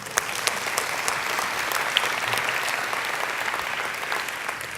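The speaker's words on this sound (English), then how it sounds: "a round of applause for Björn anyway" A conference audience at a talent networking event applauds Björn, a full, steady clapping from a large room with a few sharper individual claps standing out.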